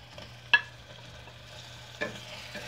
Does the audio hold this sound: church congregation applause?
no